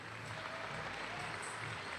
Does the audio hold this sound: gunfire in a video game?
no